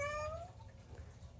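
A house cat gives a single close meow with a rising, then falling pitch in a quiet indoor room, followed by a low background hum.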